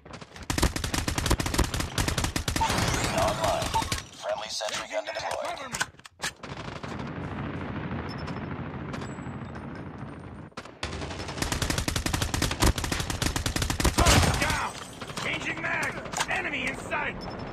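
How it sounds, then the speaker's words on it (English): A deployed sentry gun in a video game rattles off long, dense automatic bursts, loud and close, pausing briefly between volleys while game sounds and a voice come through in the gaps. "Sentry gun deployed."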